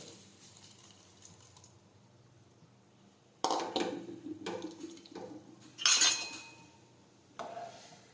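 A spoon stirs morayo (barnyard millet) khichdi in a pot after coriander goes into the hot tempering. There are several separate bursts of metal clinking and scraping against the pot, fairly close, with quiet stretches between them and no voices.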